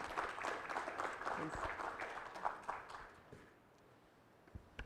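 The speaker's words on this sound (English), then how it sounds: "If everyone could please give a round of applause to Aisha," Audience applause for panelists at the GWC Forum 2023, a dense patter of clapping for a few seconds with some voices mixed in, then tapering off into quiet room tone with a few stray claps.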